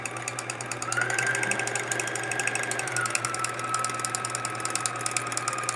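A sewing machine stitches quilt fabric, its motor running in a steady, close, continuous whir for several seconds after a brief quieter start, with no talking.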